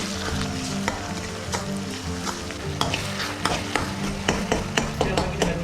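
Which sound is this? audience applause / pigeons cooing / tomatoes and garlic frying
tomatoes and garlic frying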